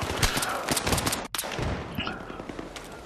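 Dense gunfire in the Battlefield 3 shooter during a Rush defence round, loud overlapping shots and bursts of rapid fire with a brief cut in the middle, continuing as scattered reports afterward.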